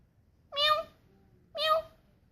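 A cat meows twice, two clear, close calls about a second apart, with near silence between them.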